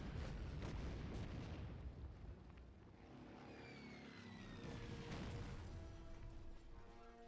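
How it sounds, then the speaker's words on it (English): Polish bombers striking targets in the strategy game Order of Battle: Blitzkrieg, heard as a dense, continuous rumble of bombing and droning aircraft engines, with booming impacts rising and falling throughout. "Polish bombers, keep bombing the AI"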